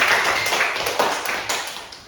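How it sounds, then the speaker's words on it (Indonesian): Students clapping in a classroom after group presentations, a short burst of scattered claps with a few sharper taps, fading over about two seconds, with a voice also present. "Beri dulu tepuk tangan untuk"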